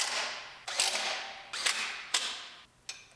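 Bolts on the washer bottle of a 2019 GMC Sierra Denali 2500HD are tightened down with a ratchet: four short, sharp clicking bursts, each followed by a softer fading creak, close up with no voices.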